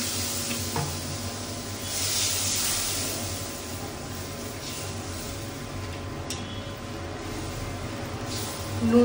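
Water poured into a hot pan of mustard seeds, turmeric and chilli powder frying in oil, giving a steady close sizzling hiss with a brief sharp burst, no talking.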